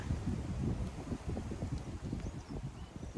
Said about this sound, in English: Trust it to be really windy right now.